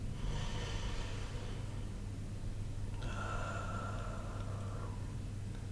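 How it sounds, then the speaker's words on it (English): Two slow, audible breaths drawn in through the chest during a mindfulness practice, each a soft airy rush lasting a second or two, close and alone in a quiet room. "back to breathing in through our chest."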